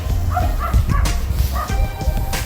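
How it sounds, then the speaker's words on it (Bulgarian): Dogs bark and yip in quick, repeated bursts at close range, with a whimpering edge among the barks, indoors with a steady background noise. "Кучетата лаят, да."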